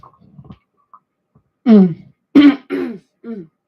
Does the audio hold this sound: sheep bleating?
no